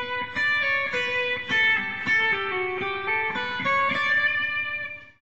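An electric guitar plays the opening two phrases of Pachelbel's Canon in D as a steady melodic line of single notes and short runs, clear and close with no talking, then fades out at the end.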